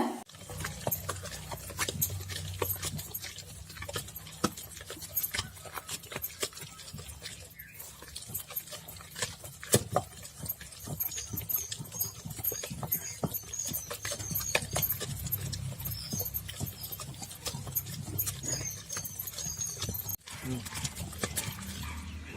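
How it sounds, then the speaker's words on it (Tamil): A traditional stone wet grinder grinding peanut chutney by hand, a steady rhythmic stream of scraping and knocking from stone on stone over wet paste, running continuously, close and moderately loud. "இன்னைக்கு ஆட்டுக்கல்ல தாங்க ஆட்ட போறேன்."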